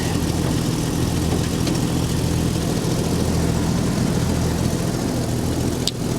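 A straight-six Chevrolet Corvette C4 engine idles steadily and loudly with a low, even rumble that holds without change throughout, and no voices are heard.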